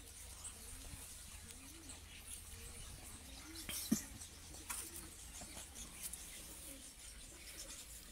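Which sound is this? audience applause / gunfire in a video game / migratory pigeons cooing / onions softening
migratory pigeons cooing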